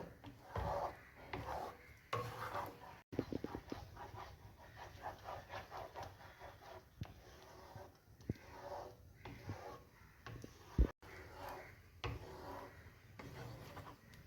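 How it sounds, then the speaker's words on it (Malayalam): A spoon scrapes and rubs steadily around a pot as a thickening cornflour pudding mixture is stirred, giving an irregular wooden scraping that is fairly quiet and close, with a few sharp knocks. "കോൺഫ്ലവർ ഒഴിച്ചതിന് ശേഷം നമ്മൾ കൈയെടുക്കാതെ ഇളക്കുമ്പോൾ ഇതേ പരുവത്തിൽ കിട്ടും"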